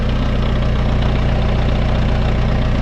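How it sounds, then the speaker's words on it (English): A compact tractor with a CVT idles close by with its PTO still running, giving a loud, steady low engine drone with a fast, even mechanical pulse and faint knocking throughout. "the PTO will not stop running"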